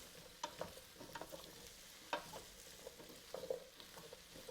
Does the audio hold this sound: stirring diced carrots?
yes